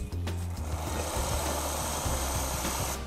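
VBM Lollo Minimax one-group espresso machine dispensing hot water from its boiler, a steady low pump hum with a continuous watery hiss, close and even throughout.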